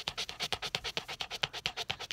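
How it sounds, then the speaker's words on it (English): A frightened dog pants rapidly while hiding in a basement, with quick, even breaths about ten times in two seconds, close and fairly soft. "Yeah, she's panting."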